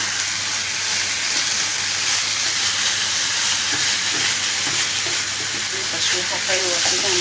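Rice sautés with chopped garlic in a pan alongside eggs and gizzards, giving a loud, constant frying sizzle with light scraping as it is stirred, and a voice speaks faintly underneath.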